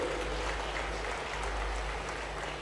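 A faint, distant wash of clapping from a large audience at a Global Investors Summit, steady and even beneath a low constant hum.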